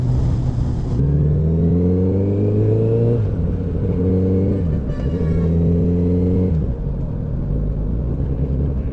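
A Honda CBR 1000RR SP motorcycle engine runs loud and close at around 2000 RPM, a deep steady drone whose pitch rises and falls slightly with small throttle changes.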